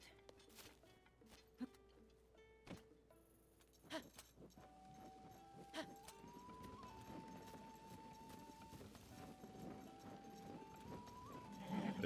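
Horse hooves clip-clop in Zelda: Tears of the Kingdom, a quiet, irregular clatter of game footfalls over a faint tonal music line, with a few sharp clicks and no talking.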